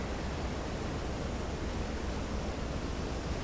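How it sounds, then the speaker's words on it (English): Rough ocean waves in the Silent Hunter 3 GWX submarine game make a constant, loud, broad roar of surf and wind with no pauses and no voices. "the movement of the waves is just too violent here"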